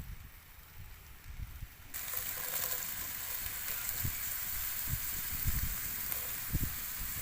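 Insects fry in a pan, starting with quiet clatter, then a sudden steady sizzle jumps up and continues under intermittent scraping and knocking of stirring utensils, with no voices.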